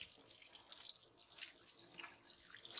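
Greasy hands being washed with dish soap under a running kitchen tap, a soft steady hiss of water with faint splashes and rubbing, quiet and close.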